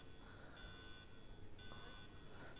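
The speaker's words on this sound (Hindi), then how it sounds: "ये अलार्म बहुत ही ज़्यादा कान में दर्द करने वाला है" An emergency alarm in Resident Evil 2 gameplay sounds faintly as steady high electronic tones that sustain and repeat under a low hiss of background noise.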